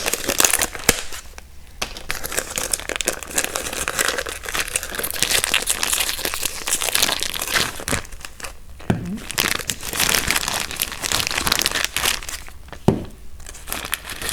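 Plastic packaging for new FJR1300 motorcycle grips and levers crinkles and crunches close up, in bursts of tearing and rustling broken by a few brief pauses.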